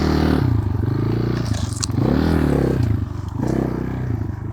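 An enduro motorcycle engine revving loudly and continuously as the rider throttles up to clear a log off-road, with the pitch rising and falling close by.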